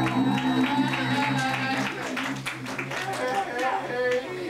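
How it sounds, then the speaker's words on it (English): Audience applause for a performer at a live club show in a cafe, a steady wash of clapping from a crowd with voices and chatter mixed in. "Let's have some applause for Mr. Douglas Jablin"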